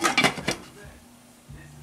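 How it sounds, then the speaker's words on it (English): A lid clatters onto a pot of sweet potato curry: a few quick metallic clinks close up, then quiet with a faint low hum from the stove. "Cover and cook in slow fire."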